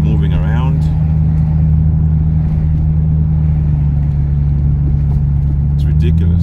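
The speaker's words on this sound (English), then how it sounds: "I'm just going to drive it gently just to warm up the bearings, make sure everything's moving around." A Toyota Supra cruising gently to warm its bearings, a steady low engine drone and road rumble held at an even, moderate level throughout, with a brief higher rev at the start.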